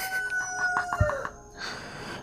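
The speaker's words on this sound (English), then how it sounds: "that bloody cockerel is not even supposed to be up at this hour" A cockerel crows from a moderate distance early in the morning, a single drawn-out call rising and fading over roughly a second and a half, over steady outdoor background noise and a brief thump.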